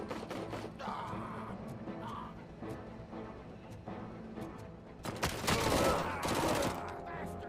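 Submachine gun fire from the video game Robocop: Rogue City, rapid bursts of crackling shots with mechanical clatter, rising into a dense loud volley near the end over the game's background noise.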